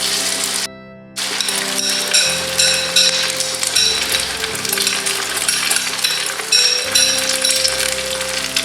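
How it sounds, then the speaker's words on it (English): Spaghetti and egg omelette mixture frying in a pan, a loud, steady sizzle with crackling and occasional scraping, close up and continuous apart from a brief drop near the start. "I'm going to fry all of this now."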